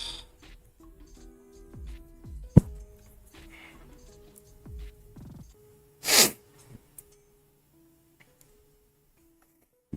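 A single sharp sneeze bursts out loudly at a debate event, preceded by soft ticking and mechanical clicks, with quiet room sounds before and after.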